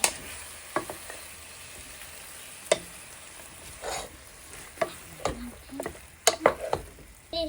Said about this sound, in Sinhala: දැන් හැමතෙම කලවම් කරන්න ඕනේ නැත්නම් ටේස්ට් එක හම්බෙන්නේ නැහැ බිරියානි එකට